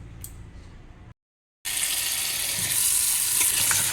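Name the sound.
rinsing mutton trotters with water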